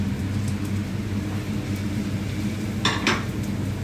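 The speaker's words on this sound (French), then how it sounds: "Les petits croûtons, ils sont en train de griller gentiment" Croutons frying gently in butter in a pan, with a constant soft sizzle close by and a couple of light clinks from a utensil against the pan near the end.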